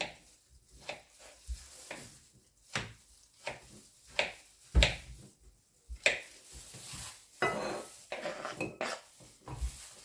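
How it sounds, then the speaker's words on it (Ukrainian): Repeated knife chops on a cutting board, cutting potatoes into small cubes, irregular but quick, with a few clinks of utensils and no talking. "Картоплю я нарізаю такими маленькими кубиками"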